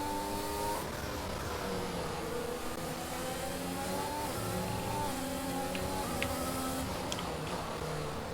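Formula 1 race car engines drone in the F1 2021 video game, a continuous high whine that rises and falls steadily in pitch as the cars run close together.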